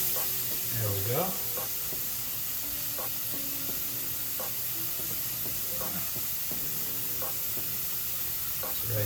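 Hamburger patties, seasoned with salt and pepper and cooked without oil, sizzle and hiss steadily in a hot pan, with occasional scraping and light clinks over the constant crackle; a voice speaks briefly.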